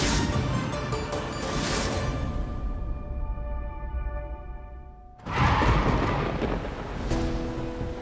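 Heavy rain pours down with deep rolling thunder. A loud crack of thunder breaks in halfway through, then the steady downpour carries on, close and wide, with no voices.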